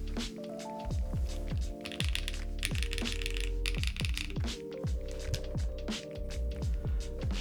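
Typing on a newly built Space 80 R2 mechanical keyboard, a fairly faint run of rapid, evenly spaced keystroke clicks continuing steadily over a background hum.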